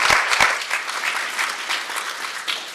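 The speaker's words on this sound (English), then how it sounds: "Please, a round of applause for doing all the stuff you do at CERN." Audience applause at a scientific keynote on stem cells, a dense, lively crowd clapping with a few sharp close claps at the start, sustained throughout at strong, even loudness.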